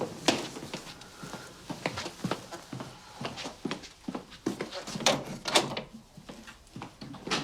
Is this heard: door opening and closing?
yes